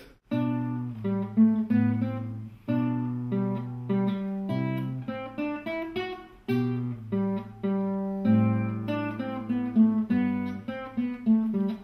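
A solo acoustic guitar plays a gentle rendition of Bach's Minuet in G, with plucked melody notes over low bass notes in a steady, even triple-time rhythm.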